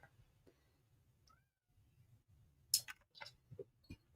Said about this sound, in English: My poor cat's standing outside the door crying.